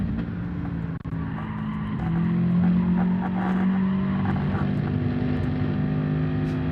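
A Ford Mustang engine in Gran Turismo 7 drones loudly and steadily up close, its pitch climbing as the car accelerates, with gear changes and faint crowd-like background noise.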